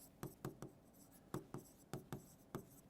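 Quick pen or chalk strokes writing out a name in Hindi lettering during a current affairs lesson, sharp scratchy taps arriving in short clusters, close and fairly quiet with no voice over them.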